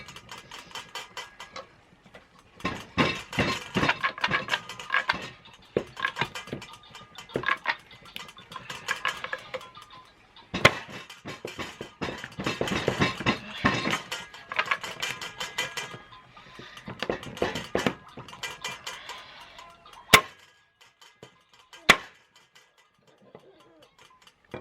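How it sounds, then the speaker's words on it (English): Knife chopping through raw chicken at the joint while butchering poultry to separate thigh and leg: a run of sharp, irregular thuds and cracks, close and fairly loud, some in quick bursts, with two isolated harder strikes near the end. "Do my best to chop at the joint there"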